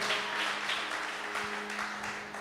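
A church congregation claps and applauds in a steady, dense burst at a worship service, moderately loud and continuous.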